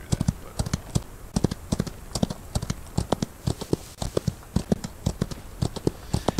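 Horse hooves clip-clop in a steady, lively rhythm of sharp close knocks in the Outlaws Old West video game, with no talking over them.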